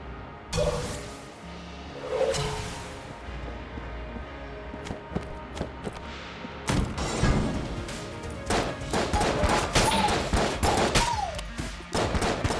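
Bursts of gunfire from Enter The Gungeon crack and rattle in rapid volleys, mixed with impacts and crashes over a low background, at moderate loudness.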